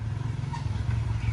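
A motorcycle engine thrums steadily and loudly close by, a low, continuous rumble with no clear rise or fall.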